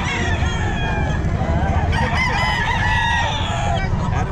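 A Kelso rooster crows loudly and close by at a busy Bocaue pet market, with clucking fowl and a low hum of market noise underneath.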